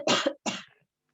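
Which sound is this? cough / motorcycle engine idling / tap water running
cough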